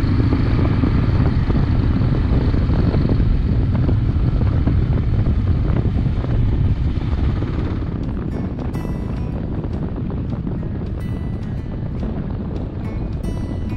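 Kawasaki KLR motorcycle engine while riding, a steady loud rumbling drone with heavy wind buffeting that eases partway through, the intermittent engine noise buried in the continuous road and wind roar.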